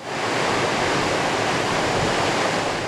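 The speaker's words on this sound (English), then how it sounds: "the Trevally Dam roared with torrents of water spilling down" Torrents of water spill down Trevally Dam in heavy rain, a loud, continuous, broadband roar with no breaks.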